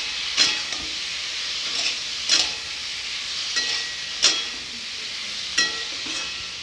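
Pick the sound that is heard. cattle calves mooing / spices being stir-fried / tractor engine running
spices being stir-fried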